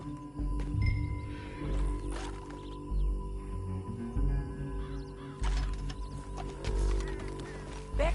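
A horse's hooves clip-clop steadily on the ground in the open-world western game Red Dead Redemption 2, with crows cawing intermittently and a low ambient hum in the background.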